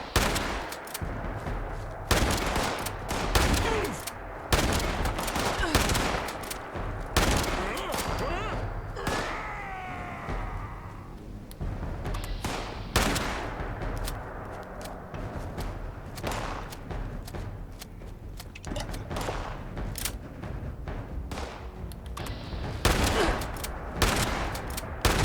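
Rapid enemy gunfire in Fallout 76, dense bursts and volleys of shots crackling loudly and repeatedly over game sounds, with a voice talking in between.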